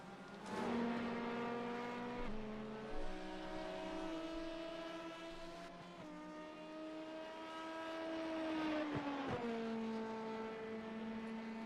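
Several LMP prototype race cars in a racing video game at a Brazil circuit, their engines droning with steady harmonic whines that shift pitch through gear changes, loud and continuous with overlapping cars.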